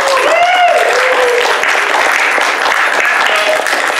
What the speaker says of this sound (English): Let's give him a round of applause here, Erner.